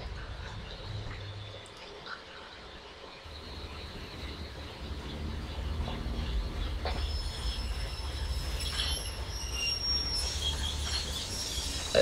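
A train rumbling past in a video game, a steady low mechanical roll with some metallic squealing and clatter rising in the second half, moderately loud and continuous with no talk.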